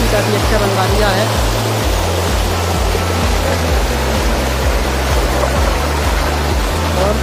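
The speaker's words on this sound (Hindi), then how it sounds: "यहाँ से भी झरना इधर से चल रहा है, ये झरना इधर से चल रहा है" A man-made waterfall flowing in a park at Narwar, a loud, steady rush of falling water with a low engine-like hum underneath.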